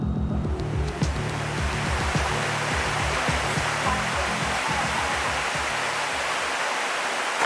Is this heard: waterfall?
yes